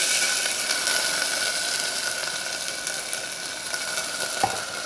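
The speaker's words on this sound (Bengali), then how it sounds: "দেখুন আদা রসুনটা ভাজা হয়ে আসছে।" Ginger and garlic frying in a pan give a steady, close hiss that holds at an even level throughout, with one brief clink near the end.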